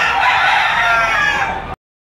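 A gamefowl rooster crows once at an auction, a loud, close, sustained call that cuts off abruptly.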